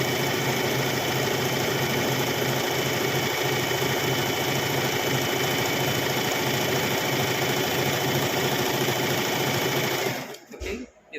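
An Usha Allure DLX sewing machine stitches torn cloth in a steady, fast, continuous mechanical whir, close and loud, stopping abruptly near the end.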